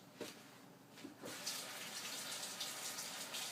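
Green onions rinsed under a running kitchen tap, a steady close splash of water that swells louder after a brief softer start, with faint handling bumps and no talking.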